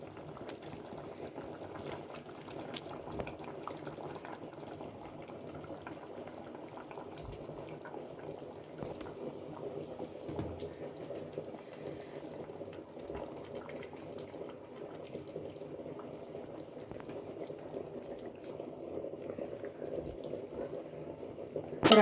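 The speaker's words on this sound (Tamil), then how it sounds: "ஒரு 5 நிமிஷம் மீன் குழம்பு கொதிக்கட்டும்." A pot of fish curry made with raw mango boils gently on the stove, a quiet, continuous bubbling and simmer that carries on evenly for over twenty seconds with no talk over it.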